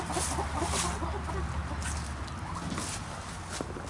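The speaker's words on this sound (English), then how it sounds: "We're being followed by turkeys now." Low clucking and gobbling of turkeys nearby on a ranch over a steady outdoor background, with no talking.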